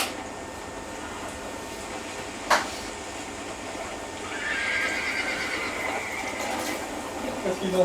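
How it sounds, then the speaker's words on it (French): Horses whinnying in the video game Red Dead Redemption, with a sharp knock early on and hoof clops, followed by a long high neigh over a steady background hiss of ambience. "Qu'est-ce qu'ils ont ces putains de chevaux?"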